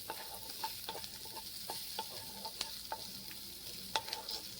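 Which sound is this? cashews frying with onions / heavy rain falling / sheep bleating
cashews frying with onions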